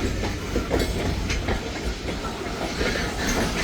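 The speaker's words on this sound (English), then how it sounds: "Quite the train going south finally" A freight train rolls past heading southbound, its steady clickety-clack and low rumble loud and close throughout, with a faint hiss over the top and no one talking.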